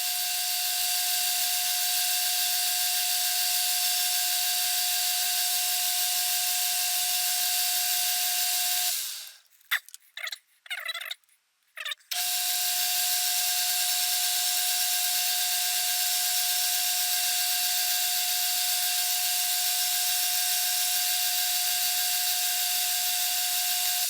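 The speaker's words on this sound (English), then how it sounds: "I'll just get this faced off, take a couple of passes." A lathe facing off a metal workpiece sounds as a steady, even whine and hiss from the spindle, broken by a few seconds of stop-start clatter in the middle, then resuming unchanged with no voices.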